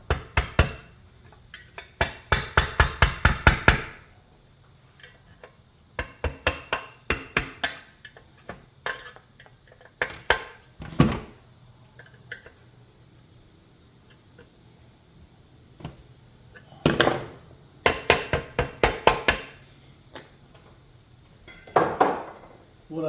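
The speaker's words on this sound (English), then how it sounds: "I'm gonna take a flat blade screwdriver and a hammer. I'm gonna fold these ears back up" A flat blade screwdriver struck with a hammer bends back the locking tabs on a muffler bolt of a Troy-Bilt machine under rebuild: bursts of rapid, close metallic taps and clinks in several clusters, separated by short pauses.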